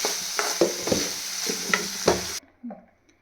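Chopped onions frying in a pan and being stirred, a close sizzle broken by repeated sharp scraping strokes of the spoon before the sound cuts off abruptly.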